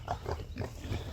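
Pigs in a silvopasture paddock grunt in short, low bursts close by, soft and irregular, with faint rustling around them.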